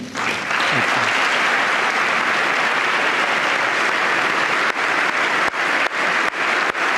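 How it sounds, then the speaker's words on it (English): A crowd applauds loudly and steadily, the dense clapping filling the space without letup for several seconds. "Even the military guys are clapping."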